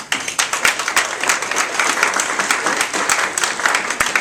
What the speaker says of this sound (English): Let's just clap again because we're happy